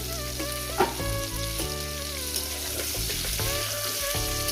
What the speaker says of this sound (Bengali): চাপা দিয়ে দিয়ে আমি এভাবে ভেজে নিয়েছি